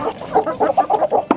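A hen clucks in a quick series of close, loud, rhythmic clucks during an evening egg roundup, ending with a sharper squawk.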